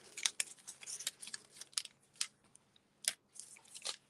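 Scissors snipping card stock while making a tri easel card, a string of crisp, close cuts in irregular short bursts with brief pauses, no speech.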